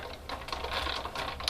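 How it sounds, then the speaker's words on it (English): A Big Shot die-cutting machine, bought secondhand and not working well, cranked through a short pass, making a close, continuous clattering, ratchety grind with small irregular ticks and no talking. "this is the problem I'm having with my particular machine, because my big shot"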